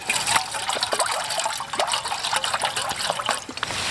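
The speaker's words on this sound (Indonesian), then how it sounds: "Kita masukin air." Water poured into a cooking pot set up to boil cassava leaves, a continuous close splashing and gurgling stream filling the vessel, loud and unbroken, with no voices.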